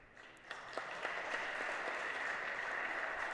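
Players from two women's basketball teams, Oswego and Buffalo State, applaud in a gym after an injured player gets up; the clapping is steady and moderately distant.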